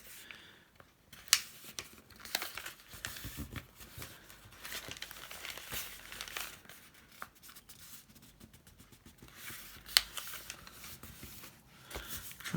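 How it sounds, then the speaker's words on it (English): Paper pages of a handmade Japanese-bound book are folded and creased by hand, producing close, soft crinkles, rustles and sharper paper snaps in an irregular rhythm. "So let me just fold these pages in."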